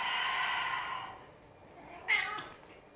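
A pet cat gives a short, faint meow indoors, a brief cry rising out of quiet room tone after a soft fading sound.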